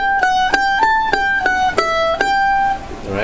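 A mandolin picks a short chunk of the fiddle tune "Liberty", about eight crisp, evenly spaced notes, close and clear, ending in a brief ringing decay.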